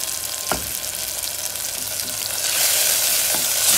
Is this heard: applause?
no